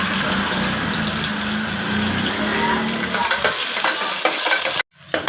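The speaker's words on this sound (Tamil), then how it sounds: "வெங்காயமும் கருவேப்பிலையும் போடுறேன்." Onions and curry leaves sizzle loudly and steadily in a hot pan while being stirred during sambar cooking, with a brief cut of silence near the end before the frying resumes.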